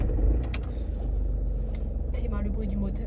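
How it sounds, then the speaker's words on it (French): A car engine hums steadily from inside the vehicle, a low constant rumble with faint rattles and clicks over it. "C'est le bruit du moteur."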